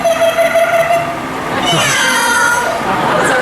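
A yellow-necked Amazon parrot mimics a cat's meow with a loud, drawn-out, wavering whistle-like call at a bird show at Disney's Animal Kingdom, heard close and clear with people talking around it.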